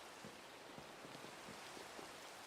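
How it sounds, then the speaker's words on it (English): Rain falling in the Minecraft video game, a faint continuous hiss of steady rainfall with soft patter, alone without talking. "It's raining."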